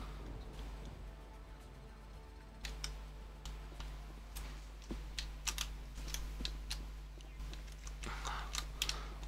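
Clicky keystrokes on a computer keyboard during a Mass Effect play session, irregular taps and short bursts over a steady low hum, fairly close and moderately loud.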